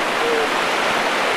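Ocean waves break on a reef in a lagoon area, a steady broad wash of surf rushing without pause, fairly loud and close, with no clear voices over it.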